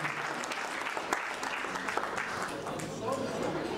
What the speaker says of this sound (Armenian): Բարձր ծափարություններով թող մեր թագավորն ու թագուհին արժանանան իրենց գահին